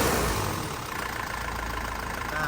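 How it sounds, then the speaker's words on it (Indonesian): Idling turbocharged diesel engine of a 2005 Isuzu Panther Grand Touring, warmed up, giving a steady close rumble with a faint whistling turbo hiss on top and an even low pulsing, with no talk. "Nah turbonya masih jelas banget ya suaranya."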